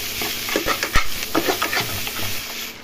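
Pieces of pork and onion are fried in a pan with little oil, a spoon scraping and knocking through them in uneven strokes over a constant gentle sizzle.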